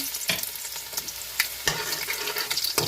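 Garlic frying in a pan for ginisang monggo, a close, crackling sizzle with several sharp stirring clicks and scrapes spread across the clip.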